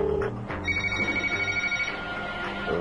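A cell phone rings with a steady electronic tone pulsing in a fast rhythm, fairly loud and near, over a busy background with no clear talking.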